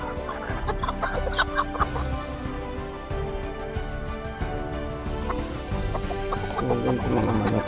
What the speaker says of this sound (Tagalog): Yung mga manok namin sumasayaw.